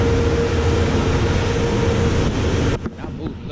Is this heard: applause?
no